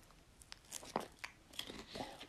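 Ritz crackers being bitten and chewed close up: a few quiet, irregular crunches over about two seconds, with no talking.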